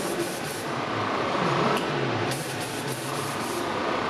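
Spray enhancement hisses from a can during a low taper fade haircut in a barbershop. It is a loud, continuous, close spray with a couple of brief dips in intensity.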